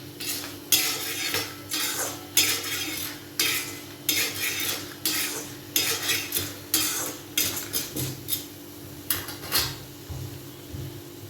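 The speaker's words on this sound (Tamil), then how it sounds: "இந்த புளியும் அதில் ஒரு பெரட்டை பார்த்து எடுக்க வேண்டியதான்" Tamarind being stirred in a metal pan while making a small-onion chutney, a spoon scraping and clanking against the pan in repeated close strokes, with a faint sizzle beneath.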